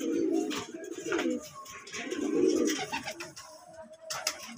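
Domestic pigeons of an old home bloodline, including a paired hen, give low, throaty coos in two or three rolling bursts close by, with faint background noise between.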